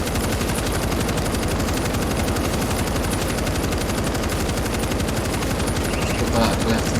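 Continuous rapid machine-gun fire in World War Z, dense and loud, with rattling bursts running without pause for the whole stretch.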